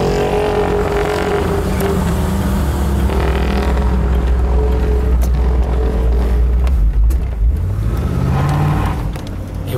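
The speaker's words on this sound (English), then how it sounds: "isn't that a nice runner, man? Nice running car." A 1969 Ford Galaxie 500's 390 big-block V8 idles loudly with a deep rumbling throb, then revs up briefly, heard close with no talking.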